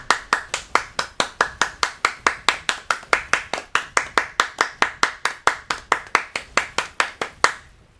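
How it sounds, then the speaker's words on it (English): Hands clap in a steady, fast rhythm, about thirty sharp, close claps in a row that stop abruptly near the end, with no voices over them. "That was some high quality clap."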